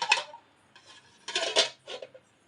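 Steel pots and dishes clatter and clink together in a kitchen sink, a few distinct bursts of metallic knocking separated by short quiet gaps, fairly close and moderately soft.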